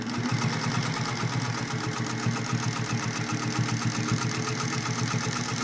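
A Singer 201-2 sewing machine fitted with a size 14 needle runs steadily up close, giving a fast, even mechanical hum and needle chatter with no talking.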